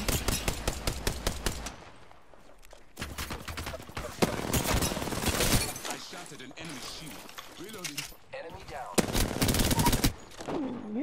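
Rapid bursts of automatic gunfire from an Apex Legends match, loud and close, with repeated volleys and pauses between them and players' voices talking over the shooting.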